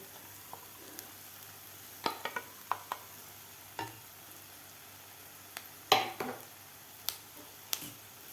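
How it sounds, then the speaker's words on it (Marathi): Quiet stirring and scraping of ground pigeon peas sautéing in masala in a pan, faint sizzling, scattered soft clicks and taps at irregular intervals, no talking. "तुरीचे दाणे आपले व्यवस्थित खालच्या मसाल्यामध्ये व्यवस्थित परतून घ्यायचे आहेत"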